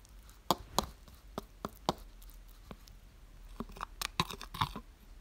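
A creamy homemade skin care paste with lemon, egg yolk and aloe vera being mixed by hand, giving close, irregular wet clicks and taps with a few sharper strokes in quick bursts, with no talking.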